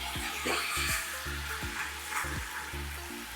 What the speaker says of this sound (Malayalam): നമ്മൾ നേരത്തെ ആദ്യം ചേർത്ത മസാലയും ചിക്കനും കൂടി മിക്സ് ചെയ്തെടുക്കുകയാണ്